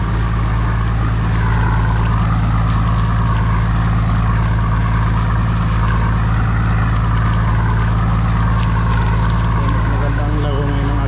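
A boat engine runs loud and close with a steady low drone and constant churning, near Siargao Island in the Philippines, with a voice now and then under the noise.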